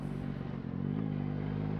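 A Yamaha MT-09 Y-AMT motorcycle ridden at about 40 km/h gives a steady, close engine drone with a low rumbling hum that holds level throughout, with no voices.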